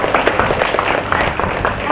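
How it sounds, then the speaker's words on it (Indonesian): Audience applause at a creative-city event in Tangerang, a dense, steady wash of many hands clapping together at close range for a couple of seconds. "Tepuk tangan dong."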